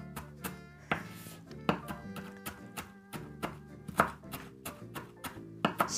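Knife finely mincing food on a cutting board during Christmas party cooking, a run of crisp, irregular close-up chops and taps with short pauses between bursts.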